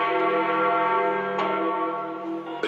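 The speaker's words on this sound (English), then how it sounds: "Ringing the bells of St. Peter's is a very appropriate innovation." Church bells of St. Peter's ring out before a papal conclave, a loud, sustained, resonant peal with overlapping tones and a fresh strike near the end, no talking.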